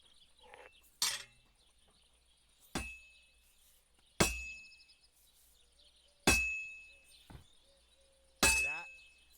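A hammer strikes heated metal on an anvil at a forge in the game Kingdom Come Deliverance 2, five sharp ringing clangs spaced roughly two seconds apart, each leaving a bright metallic ring that fades before the next blow.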